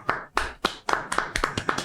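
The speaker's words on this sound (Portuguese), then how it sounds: "Palmas." Hands clap in a steady run of about eight sharp claps, close and fairly loud, evenly spaced with no talking.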